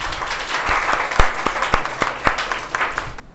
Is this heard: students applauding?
yes